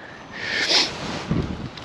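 Strong coastal wind gusts across the microphone on a stormy sea-trout fishing shore with precipitation, a broad rushing roar that swells and buffets loudly, with no voices.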